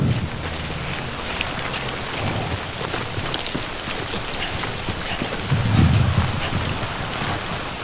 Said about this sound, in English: More fucking rain in the game.